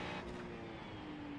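Ferrari race car engine in a racing video game at Watkins Glen, a faint steady engine drone, with a slight tire-scrub edge near the start and no talk.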